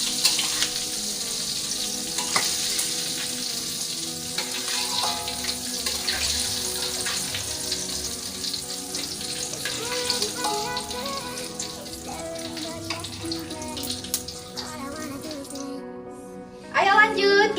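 Chicken liver and gizzard fry in hot oil with a dense, continuous sizzle, close and steady throughout, with a few clinks and a louder burst near the end.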